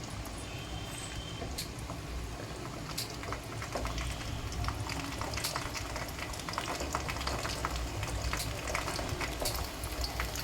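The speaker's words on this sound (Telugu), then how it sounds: "చూడండి ఆలు ఇలా ఫ్రై అవుతూ ఉంటుందండి" Potato pieces frying as French fries in oil over medium heat, a dense, steady crackling sizzle with faint bubbling that carries on unbroken and fairly close.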